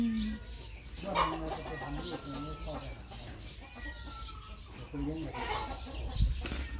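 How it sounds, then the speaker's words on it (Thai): Chickens clucking and squabbling with short agitated calls, close by, while people talk over the noise. "ไก่ตีกัน"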